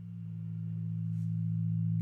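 Sustained Argon8 synthesizer pad with distortion added, a steady low droning tone that swells gradually louder over two seconds, heard alone without talk.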